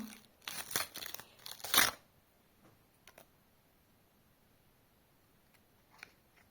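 Crinkly paper rustling and tearing in quick bursts as a bag is opened up close, followed by quiet with a few faint scattered rustles.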